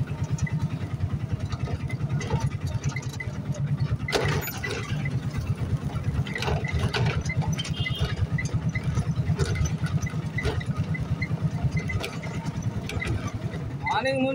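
An auto rickshaw engine runs with a steady, throbbing mid-pitched putter on a city street, continuous throughout, while people talk over it.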